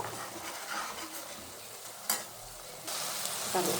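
Egg and other ingredients frying in a pan, a continuous soft sizzle with a couple of utensil knocks and scrapes, the hiss growing louder near the end.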